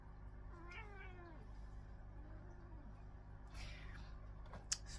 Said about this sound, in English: Here comes the cat again.